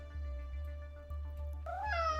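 A cat meowing in an indie video game, a short plaintive meow rising over quiet game music with soft rhythmic thumps beneath.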